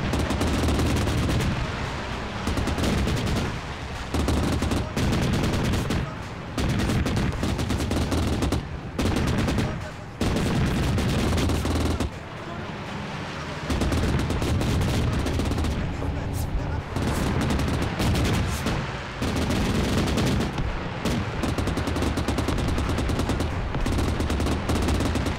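Sustained gunfire in ARMA 3 during an NPC battle against anti-air guns: dense, continuous bursts of automatic fire and shots, loud and near, with brief pauses and heavy rumbling impacts throughout.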